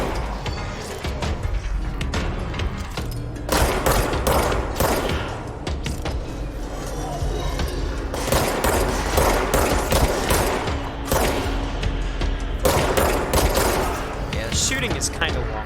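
Gunfire in the video game Control, loud, rapid bursts and shots repeating through the stretch, layered with mechanical game effects and people talking over it.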